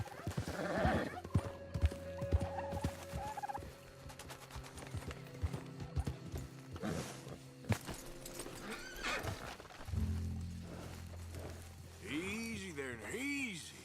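A horse in the Red Dead Redemption 2 video game clip-clops in a steady run of hoofbeats, then lets out a loud, rising whinny near the end, with a voice speaking over parts of it.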